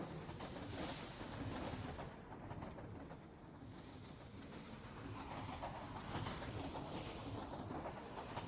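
A Create-mod train in Minecraft pulls away from the station, a steady rolling rumble with soft cooing pigeon-like ambience layered over it, continuous and moderately quiet throughout.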